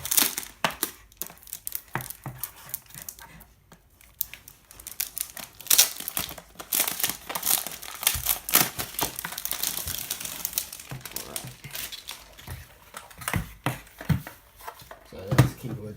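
A small plastic bag crinkles and rustles continuously as a Logitech G213 Prodigy gaming keyboard is pulled out of it, close and fairly loud with sharp crackling bursts throughout.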